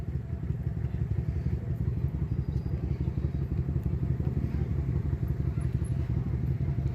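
A Harley-Davidson motorcycle engine rumbles steadily at close range, a deep continuous throb with some clatter.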